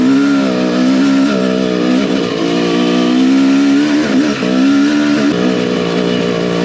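A vehicle drives along in second gear, a loud, steady engine drone with slight rises and dips in pitch, heard close and continuous without talk.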